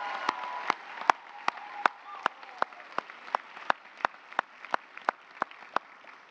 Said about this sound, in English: let's give them one more loud round of applause